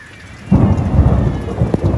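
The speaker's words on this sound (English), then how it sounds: "I'm going to leave this on so you can hear it thunder." Thunder rumbles and echoes around mountains during steady rain, a loud roll breaking in after a quiet start and rolling on over the patter of falling drops.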